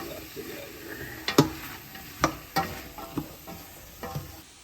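Browned beef stew bits stirred in a hot pan, a steady sizzle broken by several sharp scraping strokes of a utensil against the pan bottom, close and fairly loud.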